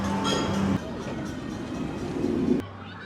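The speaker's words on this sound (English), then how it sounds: "So I'll wave at the train" An amusement park train at Six Flags Fiesta Texas rumbles past nearby with a steady rolling clatter for a few seconds before cutting off abruptly; a voice is briefly heard alongside.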